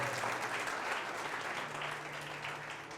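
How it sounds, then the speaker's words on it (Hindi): Steady applause from a church congregation at a Hindi-language Christian service in Pathankot, a dense wash of many hands clapping that holds level for the whole stretch and fades slightly at the end, with no voices over it. "ताली बजाएंगे, प्रभु का धन्यवाद करेंगे।"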